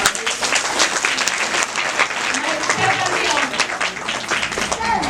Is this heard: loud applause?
yes